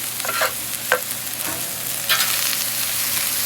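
Thin-shaved onions frying in avocado oil and butter on a Blackstone griddle, a constant bright sizzle with a few spatula scrapes and pushes, close and loud.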